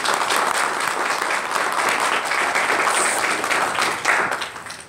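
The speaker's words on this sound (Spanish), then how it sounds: "Vamos a darle un aplauso." Sustained audience applause at a Mexican cartoonists' society gathering greets a fellow artist, a dense, even wash of many hands clapping throughout before tapering slightly at the end.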